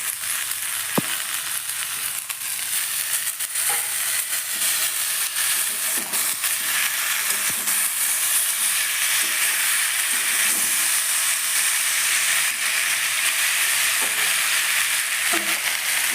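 Tomato, ginger and spice paste fry in a pan with a steady, loud, bright sizzle and hiss that runs throughout, with occasional soft stirring knocks.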